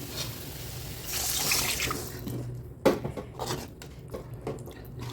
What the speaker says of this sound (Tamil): இப்போ நம்ம புளி தண்ணி ஊற்றிடலாம்